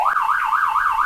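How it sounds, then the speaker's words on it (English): A loud warbling siren wails in a fast, regular up-and-down cycle beside a lacrosse game, close and piercing throughout. "there was a big siren right there, Jason."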